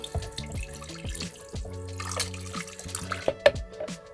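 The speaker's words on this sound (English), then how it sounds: "I'm just going to take the concentrate, pour it right in." Fire cider concentrate, an apple cider vinegar infusion, is poured into a jar, giving a close, gurgling trickle of liquid with light splashes and a few sharp drips and clinks near the end.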